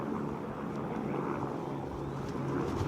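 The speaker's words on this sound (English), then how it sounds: "It's a helicopter going over the top." A steady low helicopter rotor drone fills the clip, loud and continuous, as it passes close overhead during a 2017 rugby league match, with wind buffeting the microphone.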